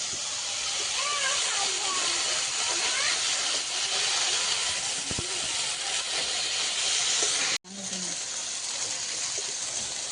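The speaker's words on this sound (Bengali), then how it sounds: "লোটে মাছটা ভেজে নিয়েছি," Lote fish frying in a pan, a loud, constant close hiss with a brief cut near the end, while a voice speaks over it.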